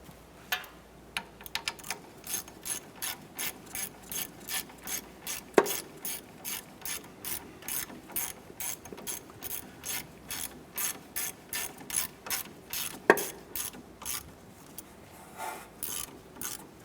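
Ratchet tightening the clevis fork bolt on an Acura TL strut: a steady run of close, rhythmic clicking strokes, each a quick burst of ratchet ticks, repeated evenly for many seconds.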